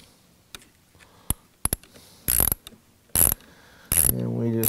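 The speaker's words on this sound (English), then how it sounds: "And we just keep tightening that down." Ratchet clicking in short bursts while tightening down a battery terminal on an electric vehicle conversion, several quick ratcheting passes with pauses between, ending in a steadier mechanical whir, close and fairly loud.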